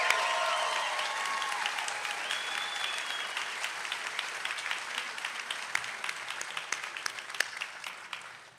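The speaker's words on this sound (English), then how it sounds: "let's give them one more big round of applause" Sustained applause from a large audience at a health sciences university commencement ceremony, dense and steady throughout before slowly thinning toward the end, with a few faint voices mixed in.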